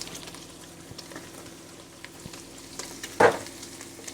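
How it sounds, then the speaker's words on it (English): Leeks and onion fry in a pan with meat, a soft, low sizzle with faint stirring and one brief louder clatter near the end, no talking. "My leeks and onion going into the pan."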